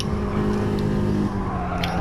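Loud, steady engine drone from a Honda Civic Type R FK2 turbocharged hot hatch lapping Suzuka circuit, sustained and close throughout with a faint squeal of tires.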